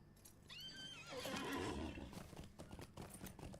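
A horse whinnies once, rising and falling, followed by a steady clatter of hooves and loud rumbling, in the video game Lord of the Rings Online.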